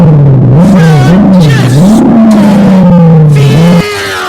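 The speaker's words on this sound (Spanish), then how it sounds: "ahora CJ cruzará los cables para encender el carro" A car engine in GTA San Andreas, hot-wired, revs loudly and close in repeated rising and falling surges before dropping to a lower idle at the end.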